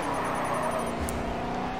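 A race car engine in the Grid 2 racing game hums steadily with a faint crackling, heard low and even across a short stretch with no talk.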